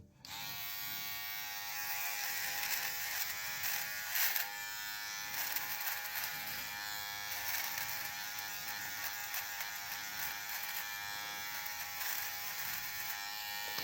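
Philips OneBlade QP2724 electric trimmer running over the mustache area, a steady close buzzing hum with slight changes in tone as it moves across the skin, no voices.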